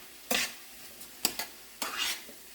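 Roux cooking in a pan for green bean casserole, heard as a few separate bursts of soft scraping sizzle as it is stirred, close by and fairly quiet, with short pauses between strokes.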